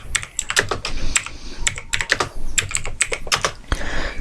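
Rapid keystrokes on a computer keyboard entering a search into Google Chrome, a close, irregular run of sharp clicks with short pauses between bursts, with no voices.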